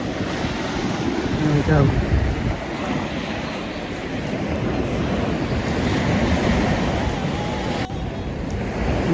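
Surf washing steadily onto a sandy summer beach in the afternoon, a continuous broad rush with wind buffeting the microphone, while a person speaks briefly nearby.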